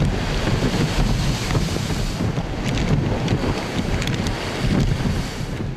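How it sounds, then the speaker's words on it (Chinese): Typhoon waves surge ashore beside Hong Kong Island's Heng Fa Chuen, with spray nearly as high as lampposts. The roar of surf and gusting wind is loud and continuous, buffeting the microphone. "港岛杏花村隔离涌上岸嘅浪花，差唔多同灯柱一样高。 一浪未平，一浪又起。"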